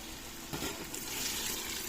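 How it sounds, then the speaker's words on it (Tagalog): Water poured into a pot to make soup from a roast pig's head. A soft, steady gush of running liquid, fairly quiet and brief, with no voices. "lagyan natin tubig guys"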